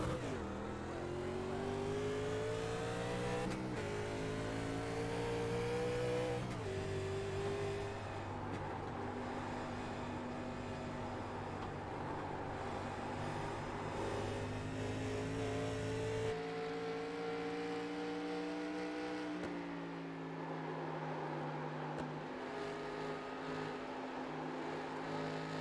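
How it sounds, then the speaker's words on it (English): Vintage race cars in iRacing at Rockingham, heard on board with a steady, loud engine drone whose pitch rises through the gears and drops at each shift, sustained throughout. "we're going to let you hear the sounds of the cars as we go on board"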